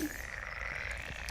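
Frogs croak faintly in a low, continuous outdoor chorus, distant and steady with a soft background hiss.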